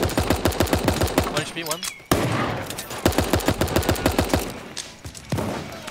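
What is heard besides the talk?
SMG gunfire in Super Animal Royale video game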